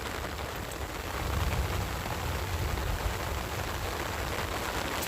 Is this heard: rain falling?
yes